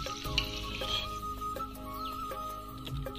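Curry leaves fry in hot oil with a soft, even sizzle and faint crackle, close but quiet, with no talking.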